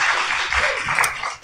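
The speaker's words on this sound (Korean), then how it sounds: "다시 한번 하나님 앞에 영광의 박수" A church congregation claps together at a Sunday worship service, a dense, loud burst of applause that fills the whole moment before fading.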